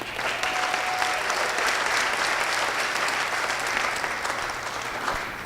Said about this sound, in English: I first want to give a round of applause to his mother